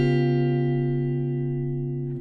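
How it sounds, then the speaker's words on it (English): A guitar sustains a single dominant seventh sharp eleven chord in a neo soul style, rich and steady, ringing out alone for about two seconds before fading slightly. "play a dominant 7 sharp 11 chord"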